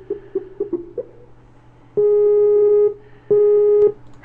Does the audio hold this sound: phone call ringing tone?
yes